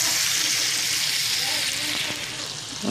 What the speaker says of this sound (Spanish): Vamos a poner los camarones. Perdón, a sofreír